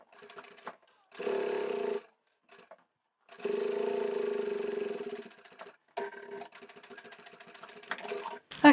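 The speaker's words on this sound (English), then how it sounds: "I'll turn around, sew over that bottom section" Sewing machine stitching the bottom of a fabric scissor keeper pouch in short bursts, a close, rapid mechanical whir starting and stopping several times with quiet pauses between runs.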